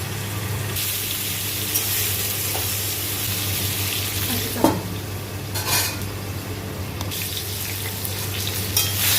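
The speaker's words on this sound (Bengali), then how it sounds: "বেগুনটা ভাজা হবে, একটু ভালো করে ভাজতে হবে" Salted eggplant fries in a pan with a continuous crackling sizzle, broken by an occasional clink of utensils against the pan, with no voices.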